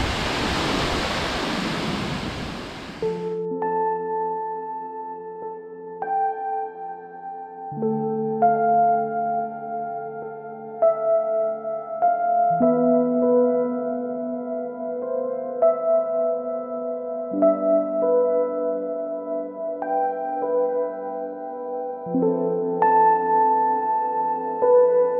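Cascada Marsella in Santa María, Huila, gives a loud, broad roar of crashing water for about three seconds before it cuts away to calm, sustained instrumental music for the rest.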